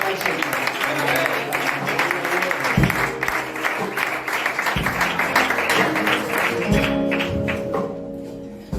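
Church congregation in Benimamet applauding during a worship service, a dense wash of clapping with overlapping music or voices and strong low-pitched tones, steady and fairly loud throughout.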